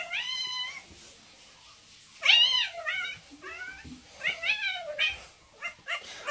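A cat meows repeatedly, with several distinct, close, clear calls separated by short pauses, some drawn out and rising, with no talking.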